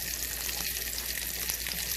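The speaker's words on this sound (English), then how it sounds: "Now we're going to sear these pork chops on both sides." Breaded pork chops sear in a hot skillet, giving a steady, close sizzle and crackle of fat that holds evenly throughout with no voices.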